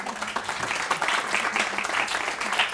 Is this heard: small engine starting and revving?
no